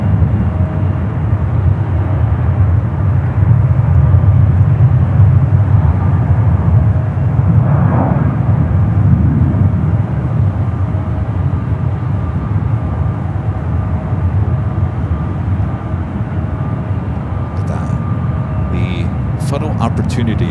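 An airliner takes its takeoff roll down runway 28 left at San Francisco airport with a sustained, heavy engine roar that swells midway and eases slightly toward the end, with no talk.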